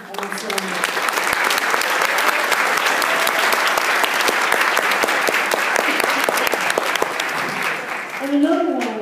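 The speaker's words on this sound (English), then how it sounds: "how about a big round of applause for our CME ensemble" Audience at a jazz concert gives a big round of applause for a college jazz ensemble, sustained dense clapping that fades near the end as a voice begins speaking.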